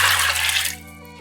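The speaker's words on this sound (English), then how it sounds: "I'm just going to top this up so that there's water twice the height of the beans." Water pours into a rice cooker pot over red beans, a loud splashing gush that cuts off abruptly after under a second, leaving a faint ringing tail.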